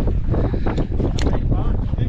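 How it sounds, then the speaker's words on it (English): Strong wind buffets the microphone on a boat while squid fishing in Cockburn Sound, a steady low rushing roar with faint water sounds underneath. "The wind's come up and the squid are firing up."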